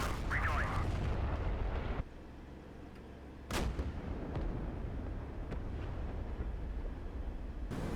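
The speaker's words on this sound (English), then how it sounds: "we're going to pull up, because that's going to be a big explosion" A ground target explodes in the DCS World flight simulator, a WWII air attack on ground forces outside Caen, France, 1944. A steady engine rumble runs throughout, broken by one sharp, loud blast partway through, then the rumble continues.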